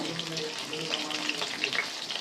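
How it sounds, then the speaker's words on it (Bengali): Potatoes frying in a pan, a steady hissing sizzle with small crackles throughout, close and fairly even. "আলু কটা ভেজে নিই বন্ধুরা লাল লাল করে"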